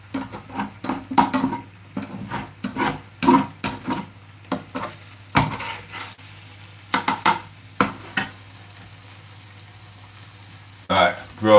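Eggs frying in a pan give a soft sizzle beneath repeated clattering scrapes of a utensil against the pan, with people talking on and off over the cooking.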